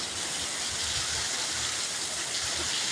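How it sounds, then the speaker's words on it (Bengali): Heavy rain keeps pouring after a night-long downpour, making a dense, even hiss of falling water that stays steady throughout with no voices. "এখনো বৃষ্টি হইতেছে।"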